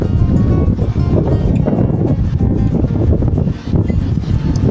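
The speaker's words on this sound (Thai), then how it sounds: "ตอนนี้ลมแรงมาก" Strong wind roars steadily across the open Mekong River, a loud continuous buffeting rush that barely lets up for the whole stretch, with no voices heard.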